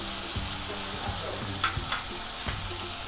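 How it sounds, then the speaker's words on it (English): Diced onions hit a hot kadai pan for restaurant-style kadai paneer, setting off a steady, close sizzle of frying with a few soft spoon or pan knocks over the continuous hiss. "We'll add some diced onions to it"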